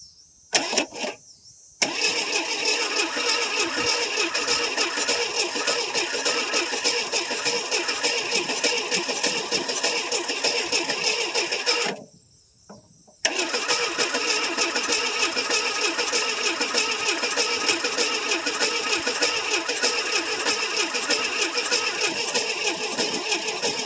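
A 1979 Ford Fairmont parked for about 23 years cranks with a rapid whirring starter in two long bursts, nearly stalling in a short pause between them, loud and close.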